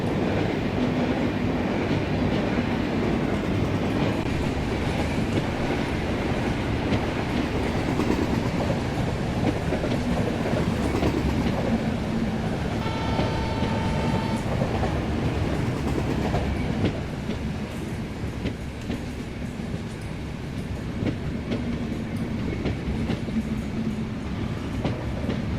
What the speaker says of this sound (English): Kharagpur to Yeshwantpur Superfast Express. It's just going on in the opposite track.